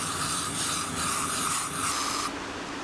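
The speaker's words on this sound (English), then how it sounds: "Spray about half a can of Lysol into the intake." An aerosol can of Lysol disinfectant sprays steadily into a car's air-conditioning intake, a continuous close hiss that runs for over two seconds before cutting off, leaving quieter background noise.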